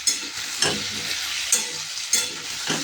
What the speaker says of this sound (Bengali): পরিমাণ মতো হলুদ, কিছুক্ষণ নাড়াচাড়া করে নেব